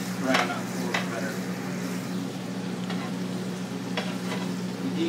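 Lamb osso bucco coated in Dijon mustard sizzles steadily as it browns in a pan, with a few brief stirring clicks over the constant frying hiss.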